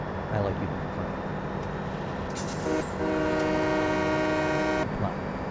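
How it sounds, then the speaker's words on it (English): A train horn blows in Farming Simulator 17, a steady loud tone holding for about two seconds over continuous rumbling rail noise, with a voice talking faintly beneath. "Who doesn't like blowing the horn on the train?"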